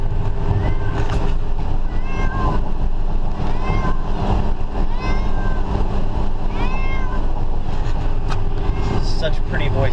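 Several cats meow repeatedly in drawn-out, rising and falling calls outdoors, close by, over a constant low engine-like rumble.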